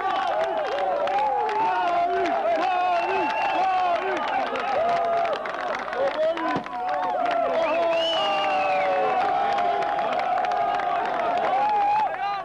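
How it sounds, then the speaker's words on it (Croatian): Toška football fans in a stadium chant and cheer after a goal, a dense, sustained roar of many voices with sung, chant-like waves filling the whole stretch. "nova radost navijača Toška, u ostalom poslušajte i sami njihovo oduševljenje"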